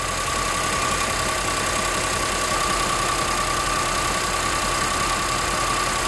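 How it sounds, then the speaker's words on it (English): A car engine running steadily during a battery tester check after cranking, a loud continuous idle drone with a faint steady whine throughout, no voices. "Cranking normal."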